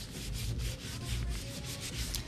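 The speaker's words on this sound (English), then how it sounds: "I'm holding my sand block over it and I'm spinning it, and that's how I'm sanding it" A spinning sand block scrubs over a glitter pen in a crafting kit, a close, continuous rasping rub with quick repeated strokes and no talk.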